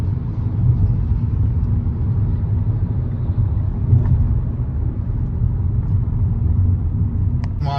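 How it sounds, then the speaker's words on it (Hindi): Continuous road traffic rumbles along the Peshawar-Islamabad GT Road as a steady, loud low drone, with a few faint passing swells and no break throughout. "और ट्रैफिक देखें आप, मुसलसल ट्रैफिक आ रही है"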